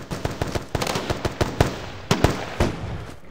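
Rapid automatic gunfire in the video game Insurgency mod, loud, sharp cracks firing in quick uneven bursts, alone without talk.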